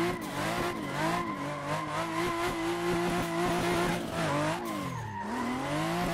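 A video game car engine revs steadily with tires squealing through a drift, sustained and loud, with a brief dip and rise in engine pitch near the end; a big-winged Nissan S13.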